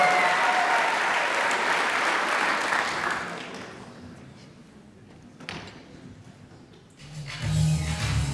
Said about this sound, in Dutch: Mag ik een heel groot applaus voor deze kanjers uit Hilversum.